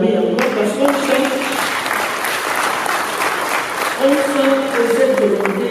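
A large audience applauds steadily at a formal public assembly on resource management, dense clapping filling the whole stretch with a few brief voices rising over it.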